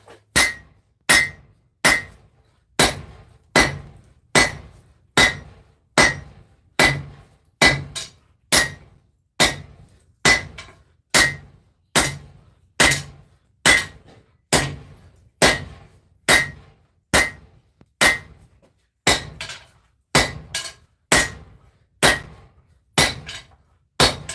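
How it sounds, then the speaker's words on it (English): A hammer strikes a sword blade being forged on an anvil in slow, steady, evenly spaced blows, each a loud ringing metallic clang that decays before the next, about one per second. "we are now back to the sword. So let's keep forging this out."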